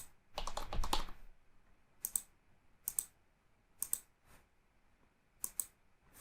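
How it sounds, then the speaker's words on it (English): Keys on a computer keyboard tapped while filling in a web form: a quick flurry of clicks, then single sharp keystrokes spaced about a second apart, close and quiet with no talk. "so I type something here."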